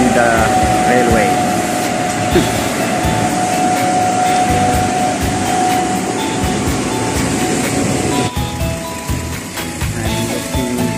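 A loud, continuous mechanical roar and whir of a railway track-cleaning machine in Geneva, Switzerland, steady throughout with a faint tonal whine in the background.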